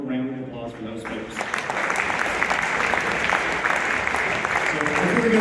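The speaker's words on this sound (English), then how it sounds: "Run more round of applause for those folks." Audience applause for high school jazz band soloists at a senior recognition concert; steady, dense clapping swells after an opening instrumental chord and carries on loud and unbroken.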